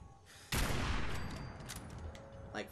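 Automatic turret gunfire in Fallout 4, a loud burst of rapid shots erupting suddenly and sustained as a dense rattling fusillade, with a brief sharper flurry near the end.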